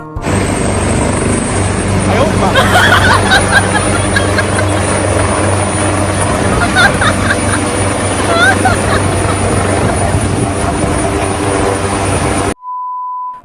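A loud helicopter taking off roars steadily nearby, its rotor thrum sustained for over ten seconds, with people's voices mixed in, then a short electronic beep.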